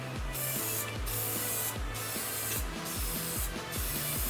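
Tire lube sprays in repeated short bursts onto a dirt bike tire, five hissing blasts at a steady rhythm, each followed by a ratcheting mechanical click from the sprayer, close and alone.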